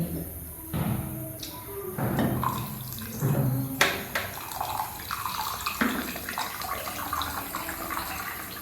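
Water poured into salna curry, a ground coconut and peanut base in a pot, splashing and gurgling steadily for several seconds with occasional thumps and clanks of cookware close by.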